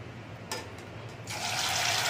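Small poha and besan pakoras drop into hot refined oil, setting off a close, steady hiss and sizzle that swells louder partway through, with no talking.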